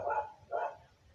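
Two short, muffled dog barks in quick succession, moderately close, with a quiet pause after them.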